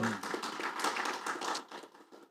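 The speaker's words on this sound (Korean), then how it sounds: "박수로 환영해 주십시오." A forum audience claps briefly in welcome for a Democratic Party lawmaker joining a policy debate panel, a short, fairly soft patter of many hands that fades out within a couple of seconds.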